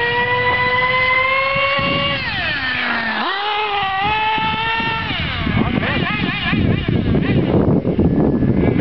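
A remote control buggy drives outdoors, its small electric motor giving a loud, buzzing whine that rises, dips sharply and climbs again as it speeds up, slows and turns, with gritty wheel noise underneath.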